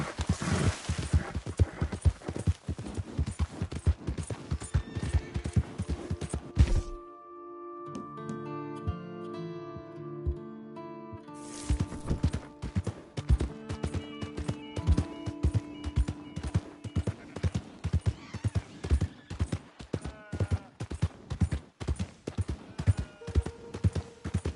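Horse hooves clip-clop steadily in a video game, a loud rhythmic trot that breaks off into a quieter stretch with music, then resumes as fast, sharp hoofbeats to the end.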